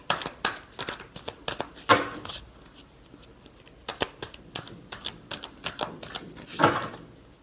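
Tarot cards being shuffled by hand, a steady run of quick riffling clicks and flutters up close, with a couple of louder bursts and no talking.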